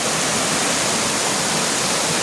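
Spring water gushes strongly from the foot of a hill in the Konkan, a steady, full broadband rush that fills the whole moment without pause, loud and close, with no voices over it.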